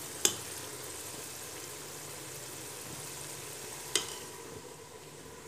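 Potatoes frying in masala for a white lobia (black-eyed bean) curry, giving a soft, steady sizzle in a pan with two sharp clicks of stirring or utensil contact.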